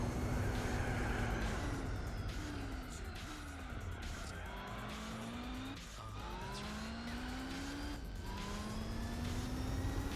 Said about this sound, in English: RX-7's pitting in.